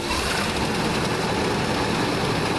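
An old car engine cold-starting in October, running steadily and loudly at close range as a continuous rough idle with no talking over it.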